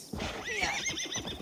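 In the video game Assassin's Creed Valhalla, a horse gives a close, loud whinny lasting just over a second, the shaky call rising and then falling, with a faint clop of hooves underneath.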